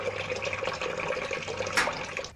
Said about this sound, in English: water gushes in, released by a sort of electric tap called a solenoid valve